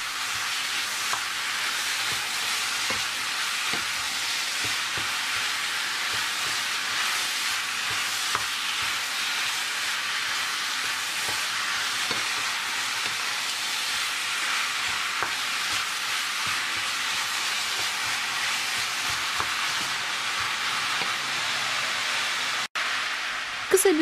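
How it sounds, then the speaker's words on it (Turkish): Sacrificial meat sautéing over high heat in a pot makes a dense, continuous sizzle and frying hiss, loud and steady throughout with occasional stir clatter and a clunk near the end, with no voices. "Etimizin rengi dönene kadar yüksek ateşte kavuralım."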